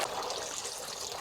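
Steady splashing and trickling of water from a resin tiered outdoor fountain, a continuous close sprinkle with no voices.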